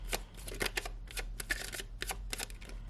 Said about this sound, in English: 1 last shuffle